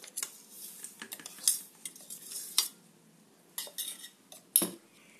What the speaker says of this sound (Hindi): इस बिस्किट को हमने ग्राइंड कर लिया है, अब हम इसे इस बर्तन में निकाल लेंगे।